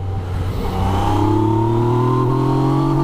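A 2017 Yamaha MT-09 motorcycle engine revs hard under acceleration, a loud, close, steady roar rising in pitch across the whole stretch, with no voices.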